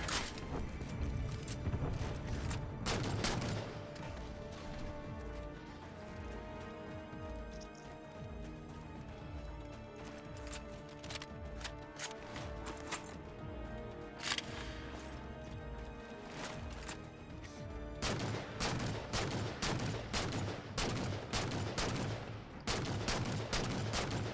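DMR rifle fire in the Halo game Spartan Ops, sharp repeated shots in bursts and rapid strings amid explosions and battle noise, loud and close throughout.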